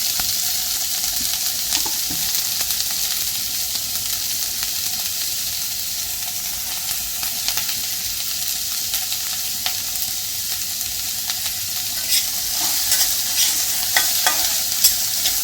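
Onion, green chilli, garlic and ginger fry steadily in a pan with roasted coconut for Maharashtrian sev bhaji. A loud, continuous sizzle runs throughout, broken by frequent stirring scrapes and clicks, with no talk.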